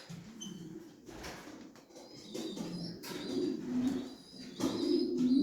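Racing pigeons coo in low, soft rolling calls, repeating several times with a rustle of wings and movement nearby.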